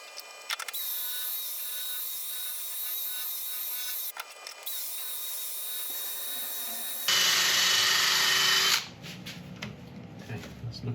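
Wood lathe spinning steadily as an elm bowl is turned, a continuous close hum with tool contact. Brief pauses interrupt it, and a louder, harsher burst of cutting or sanding comes near the end before the sound drops away.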